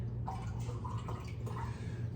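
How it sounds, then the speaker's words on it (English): Water being poured into a bottle, a gurgling, dripping stream with a rising fill tone over a low steady hum, no talk. "Let's get a little bit more water in there."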